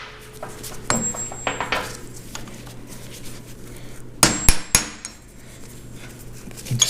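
Hammer taps on a drift while removing a spindle from a VW Split Bus, a few sharp metallic strikes, a couple near 1 s and a quick cluster around 4.3–4.8 s, close by over a steady low hum.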